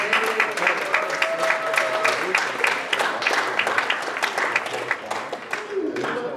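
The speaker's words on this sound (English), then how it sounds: "Keep up the applause for these folks." Applause from an audience at a student leadership ceremony, with continuous clapping that runs loud and steady and has faint voices mixed in beneath it.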